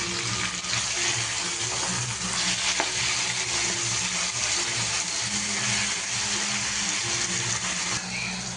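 Tomatoes fry in a pan for mutton kuzhambu, a dense, continuous sizzle and crackle with faint stirring, steady and close throughout.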